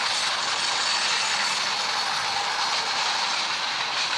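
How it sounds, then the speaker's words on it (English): Freight train cars of a Reading & Northern train roll steadily past a railroad crossing, a loud, continuous broadband rumble and rattle with faint rhythmic clatter, no voices. "the train passed the railroad crossing"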